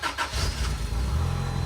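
A forty-year-old vintage RV's engine cranks with help from a jump starter, then catches and settles into a loud, steady rumbling idle, close by.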